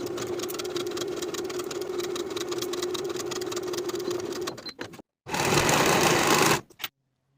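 A sewing machine stitches the side seams of a peplum top with a 3/8 inch seam allowance, whirring steadily for several seconds, pausing briefly, then running again in a short second burst before stopping.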